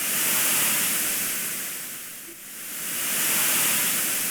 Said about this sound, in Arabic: قربت مثلا من صوت موج البحر